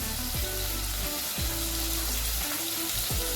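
Vegetables for sambar, including drumsticks, cluster beans, pumpkin, carrot and beans, fry in a pan with a loud, steady sizzle, broken by stirring scrapes at intervals.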